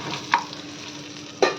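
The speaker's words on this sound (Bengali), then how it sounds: "আর এদিকে পটল ভাজা হয়ে এসছে" Pointed gourd (potol) slices frying in a pan give a steady, close sizzle with two sharp clinks of a spatula against the pan, one early and one near the end.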